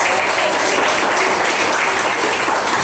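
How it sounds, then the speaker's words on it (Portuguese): A church congregation bursts into sustained, dense applause, loud and steady throughout with no pauses. "Palmas e glória a Deus."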